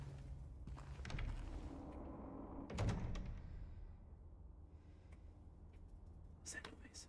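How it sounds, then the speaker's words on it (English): A door closes behind the player in Silent Hill 2 Remake, a heavy thud with a brief rattle amid quiet ambience, while someone talks softly before and after. "Oh, the door closed behind me."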